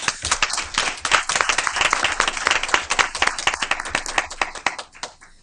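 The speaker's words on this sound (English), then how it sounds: "Please join me in giving them one more final round of applause." A room of people at a school board meeting claps loudly for school principals, a dense, steady burst of applause that thins out and fades in the final second.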